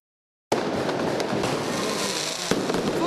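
Fireworks at the opening of the 150th Christmas fair in San Gregorio Armeno, Naples: a loud, continuous barrage of dense crackling bursts begins abruptly after half a second of silence, with one sharper bang near the end.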